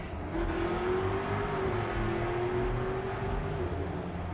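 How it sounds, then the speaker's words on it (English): The engine of a 1999 Ford Explorer runs at a steady idle, a faint, distant hum with a thin sustained tone and no changes in pitch, and no one speaks. "That would sound like a nice car if y'all can hear it in the video."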